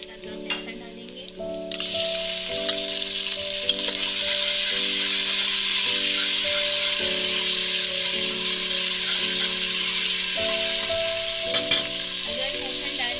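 Ginger and garlic crackle and sizzle in hot oil with lightly pinked onions in a pan, a loud steady frying hiss that starts abruptly and runs throughout, with faint stirring clinks and a low steady hum underneath.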